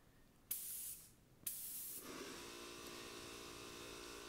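Conventional spray paint gun spraying white paint onto a guitar body: two short hissing bursts of about a second each, then one long steady blast of air and paint, close and fairly quiet, with a faint hum underneath.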